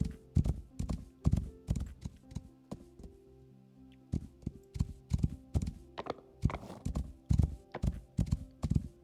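Horse hooves clip-clop in a steady trotting rhythm in the video game Rising World, close and moderately loud with a brief pause midway and no talking.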